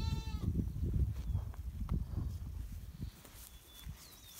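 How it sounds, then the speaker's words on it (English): Goats bleat outdoors, a few wavering calls over low rumbling background noise, fairly near and moderately loud. "The goats are out."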